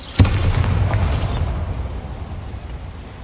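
A Bombarda blasting spell exploding in the Hogwarts Legacy video game, one sharp loud boom that rumbles on and slowly decays to a quiet tail over a few seconds.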